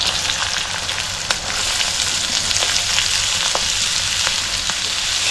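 Onion sizzles in hot oil in a wok (kadhai) that already holds green chili, a steady loud crackling hiss broken by sharp clicks of stirring.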